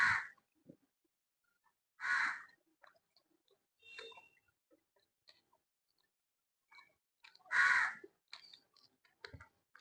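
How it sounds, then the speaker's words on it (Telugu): Several crows caw in short harsh bursts at intervals, with quiet gaps and small clicks between calls, heard outdoors around mealtime while lemon rice is eaten. "కరెక్ట్గా తినే టైంకి రోజు వస్తుంది కాకులు, కొట్టుకుంటా ఉంది."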